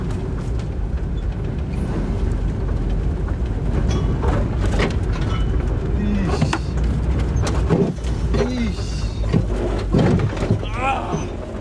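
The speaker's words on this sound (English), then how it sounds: "Yeah, this exhaust is not happy right now." A car with a broken exhaust runs roughly, a loud, continuous low rumble with uneven pulsing throughout, while people talk over it.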